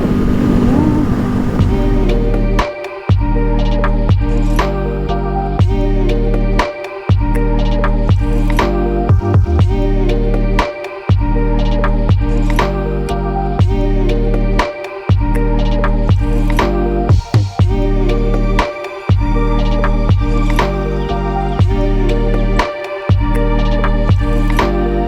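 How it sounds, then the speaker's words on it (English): A Ducati Monster motorcycle engine on a group ride drones loud and close with a steady pulsing tone, broken by several brief dips and throttle changes, and wind noise runs over it throughout. "that Ducati sounds good."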